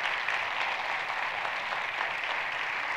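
A church congregation applauds during a morning service, dense sustained clapping from many hands that holds steady and fairly loud for the whole stretch.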